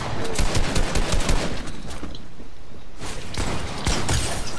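Video game gunfire crackles in rapid bursts, loud and close, dropping into a brief lull in the middle before the shooting starts up again.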